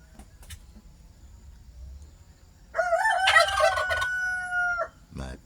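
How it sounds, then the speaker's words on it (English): A rooster crows once loudly and close by in the morning, a single long rising and falling call preceded by faint bird chirps and low background rumble, with a short burst of noise at the end. "rooster chicken crow"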